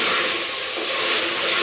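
Potatoes hit hot oil and masala in a pan while cooking aloo gosht, producing a loud, steady, broadband sizzle that lasts the whole moment.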